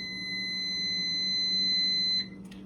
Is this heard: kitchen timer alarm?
yes